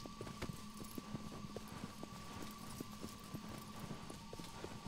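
Horse hooves clop at a steady, even rhythm in Shadow of the Colossus, faint and repeating under a low ambient game backdrop with no talking.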